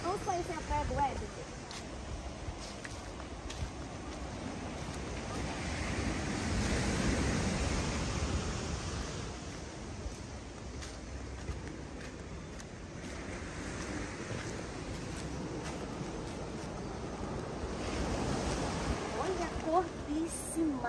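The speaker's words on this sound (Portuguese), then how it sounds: "Vamos conhecer a praia do Éden." Ocean waves and wind at Praia do Éden beach in Guarujá, a continuous rushing surf that swells and recedes with wind buffeting the microphone, moderately loud and steady.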